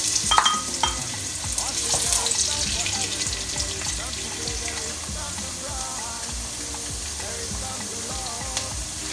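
Onion goes into hot cooking oil for a gizzard stir-fry in green pepper sauce, giving a steady, fairly loud sizzle with stirring clatter, strongest at the start.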